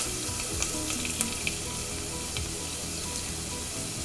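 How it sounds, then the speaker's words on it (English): Finely chopped onion, about a teaspoon and a half, sizzles steadily in a flat-bottomed pan while curry is being made, with a few light stirring clinks and scrapes over the continuous frying hiss. "So now I'm adding the onions."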